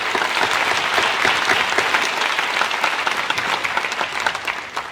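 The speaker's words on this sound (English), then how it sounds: "so a big round of applause for the team" An audience at a National Honor Society induction ceremony gives the team a big round of applause, sustained dense clapping from a large crowd at a steady, fairly loud level.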